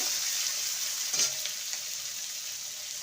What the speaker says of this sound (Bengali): পেঁয়াজকে ভেজে নেব